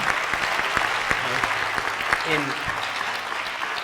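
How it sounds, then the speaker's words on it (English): A seated audience at a health and vitality talk breaks into sustained applause, a thick wash of clapping throughout, with a few voices briefly audible beneath it. "Just a round of a moment of applause here"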